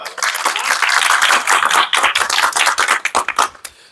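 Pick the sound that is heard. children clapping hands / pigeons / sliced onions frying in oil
children clapping hands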